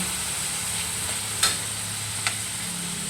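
Chicken browning in a pan gives off a steady light sizzle while being stirred, with a couple of brief sharp clinks of the utensil against the pan.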